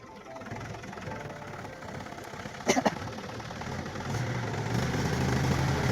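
A farm tractor's engine idling in a field, a low steady rumble with knocking pulses, a few sharp clanks midway, and the drone growing slightly heavier toward the end.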